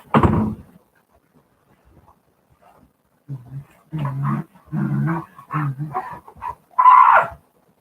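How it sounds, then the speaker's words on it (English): A fat, roly-poly dog lets out a run of close, loud grumbling howl-like vocal bursts, following a sharp knock at the start and a quiet pause. "You fat, roly-poly of a dog."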